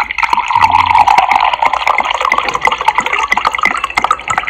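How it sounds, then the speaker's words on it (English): Water poured from a bottle into a glass gives a close, bright, steady gurgling fill that rises in pitch and lasts a few seconds. "And the soothing sound of pouring the water."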